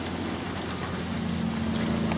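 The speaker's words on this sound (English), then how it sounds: "More heavy rain than anything, really." Heavy rain pours on a slightly windy side yard with a children's play set, a dense, steady hiss of drops with no pauses.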